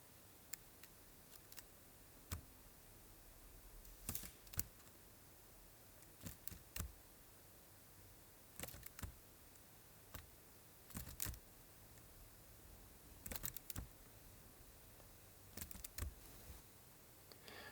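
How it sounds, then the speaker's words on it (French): Scattered computer keyboard key presses click faintly in short bursts and single taps against a quiet hiss, with irregular gaps between them. "Seulement le bruit des touches que j'appuie sur mon ordinateur."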